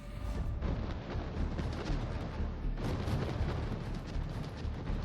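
Heavy gunfire and shell impacts strike a warship in a naval combat video game, a dense, continuous barrage of booms and blasts with no clear gaps, loud throughout.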